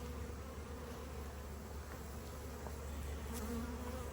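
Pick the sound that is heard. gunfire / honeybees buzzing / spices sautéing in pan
honeybees buzzing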